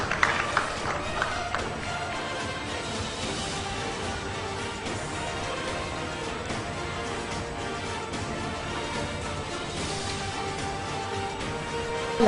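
An audience applauds as a prize is handed over at the final of a word competition. The dense, continuous patter of clapping hands holds steady for a long stretch, with no one speaking over it.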